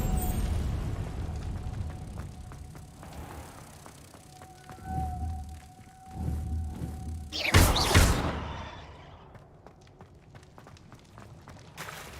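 A Confringo blasting spell goes off in Hogwarts Legacy, a few dull thuds building to a loud burst near the end, then fading.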